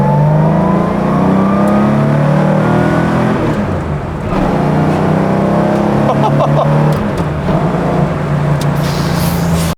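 A loud Porsche restomod sports car engine revving hard and continuously, its pitch rising and dipping with the throttle, close and roaring throughout.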